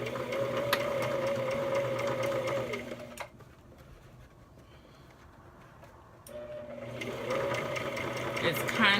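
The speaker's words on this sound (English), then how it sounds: "So bringing my lever down and I'm back stitching." A sewing machine back stitches a zipper into denim, a steady close motor whir that stops for a few seconds mid-way, then starts up again.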